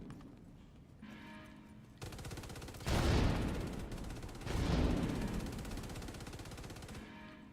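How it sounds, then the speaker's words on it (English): Light machine gun fire in The Division 2, a sustained high-rate rattle from several guns at once that swells loud with two heavy surges, then cuts off abruptly, leaving quieter ambience. "So not only have your LMG sounds, you have the LMG sounds of like basically 3 other people."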